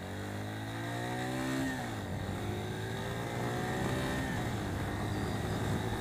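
A Suzuki TU250X single-cylinder motorcycle accelerates hard, its engine note climbing steadily through the gears with a brief dip at a shift, steady and fairly close with no talking.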